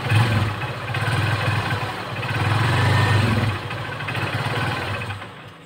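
A Honda TMX Supremo 150cc motorcycle engine running roughly with a fault, a loud, close, uneven clattering drone that swells and sags as it is revved and falters toward stalling, with no talk.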